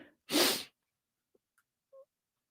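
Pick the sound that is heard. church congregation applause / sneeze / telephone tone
sneeze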